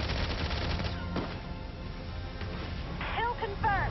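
Gunfire rattles in the video game Valkyria Chronicles 4 as a sniper is engaged, rapid bursts of shots that soften midway, with game voices sounding faintly over the battle toward the end.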